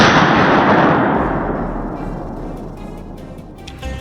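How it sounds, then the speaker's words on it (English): A loud gunshot at the start during a wild boar hunt decays into a long rolling echo through the forest that fades slowly, with a faint crack near the end. "gunshots echoed through the forest, ringing out from multiple directions"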